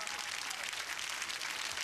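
Audience applause for a singer at a televised open-air show in Mamaia, a steady, dense crowd clapping heard throughout at moderate volume.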